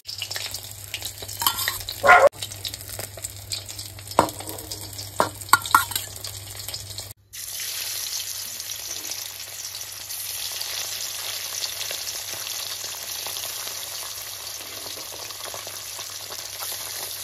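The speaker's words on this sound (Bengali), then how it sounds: "সেম প্রসেসে সব মাছ ভেজে নিয়ে তারপর আবার ফিরে আসছি" Small bele fish frying in oil in a pan give a steady, close hiss of sizzling, with a few light clatters early on, a brief break, then continuous loud bubbling sizzle.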